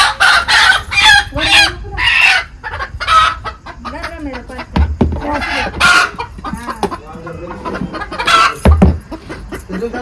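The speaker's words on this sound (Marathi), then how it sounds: "मावशी कोंबडी धरते हो का करते" A hen in a farmyard clucks and squawks loudly and repeatedly while being caught, agitated bursts close by, with other poultry calling and a person talking intermittently underneath.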